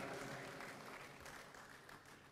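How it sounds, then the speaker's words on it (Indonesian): Applause from an audience at a Democratic Party gathering in Indonesia as a senior party figure is introduced, a steady wash of clapping lasting a couple of seconds, fairly distant and faint. "tepuk tangan."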